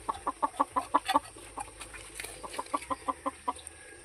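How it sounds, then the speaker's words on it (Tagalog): Chickens and small chicks clucking in quick rhythmic bursts, a run of short repeated clucks, a brief pause, then another series, close up with faint background noise. "Manok ko. Meron ako sisiyo na maliliit."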